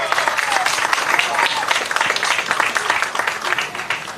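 A crowd at a Carnival ceremony in Aruba applauds steadily, dense clapping filling the space at a lively, even level, with voices faintly mixed in.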